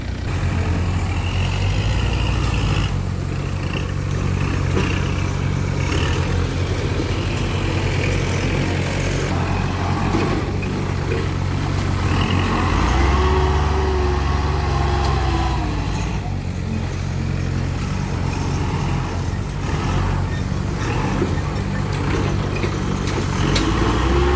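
A backhoe engine runs at a road repair site, a loud, steady low rumble that continues without a break and with no voices.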